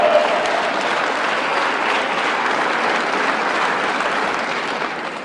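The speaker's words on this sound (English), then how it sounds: "You can clap for that, man." A large audience at a presidential economic speech breaks into sustained applause, dense and loud clapping that stays steady for several seconds before beginning to fade.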